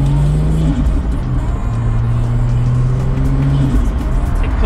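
A Ford FG X car with a performance exhaust and its middle muffler removed rumbles loudly and close by, a steady deep drone rising and falling slightly as it idles and revs gently, with no talk over it.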